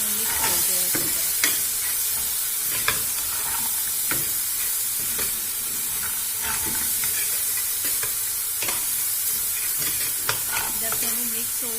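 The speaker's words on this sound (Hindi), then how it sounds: "अब इस चनों को डाल दें इस मसाले में, चम्मच चलाएं अच्छी तरह ताकि मसाला चनों में मिक्स हो जाए अच्छी तरह" White chickpeas being stirred with a spoon into sizzling masala in a pan for Lahori cholay, with steady frying hiss and repeated scraping strokes throughout, no talking.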